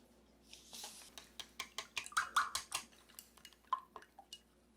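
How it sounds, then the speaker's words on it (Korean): Eggs beaten in a bowl for a rice pizza, with a run of quick, light, clinking strokes against the bowl. The strokes come close together, stay fairly quiet, and no voice is heard over them. "그 다음 계란을 풀어줍니다"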